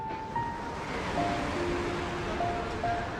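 Ocean surf rolls steadily onto a beach at high tide during a cyclone on the Kannur coast, a continuous broad wash of breaking waves mixed with wind, with no talk.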